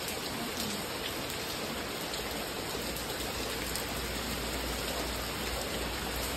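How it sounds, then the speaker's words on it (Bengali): Heavy monsoon rain falls in a dense, unbroken hiss that stays steady and fairly loud throughout, with no voices over it. "ভারী বৃষ্টি হচ্ছে বন্ধুরা"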